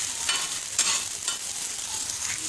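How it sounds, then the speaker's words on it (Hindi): Capsicum cooks lightly in a pan at a street food stall making an egg omelet burger: a continuous bright sizzle with a few quick stirring scrapes, close and fairly even. "अभी हम इसके साथ करेंगे शिमला मिर्च को हम थोड़ा सा हल्का सा पका लेंगे।"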